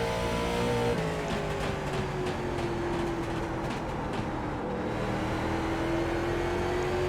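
Late model race car engine in the iRacing sim game at Thompson, a steady loud drone with a rising and falling pitch as the car holds speed around the banking, with no talk.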